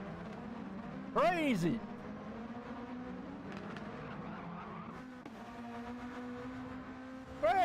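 V8 GT supercars racing on a circuit, engines droning steadily in the distance with a sharp rising-falling whine of a car passing close by, under excited commentary and crowd noise.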